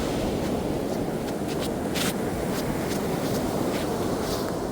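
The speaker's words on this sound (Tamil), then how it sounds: "அடிக்கிற கடல் அலையினுடைய பொங்கிக் கொண்டே இருக்குது கடல்." Sea waves pound the shore in a constant, dense roar that never lets up, with no voices over the broad rushing wash.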